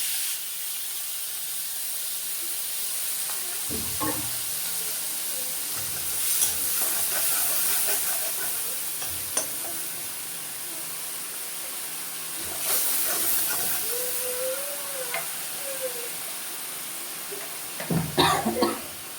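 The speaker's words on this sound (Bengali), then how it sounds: "লঙ্কা আর রসুনটা ভাজা হয়ে গেছে" Steady soft hiss of green chili and garlic paste frying in oil throughout, with occasional clinks and scrapes of stirring and a brief cough-like burst near the end.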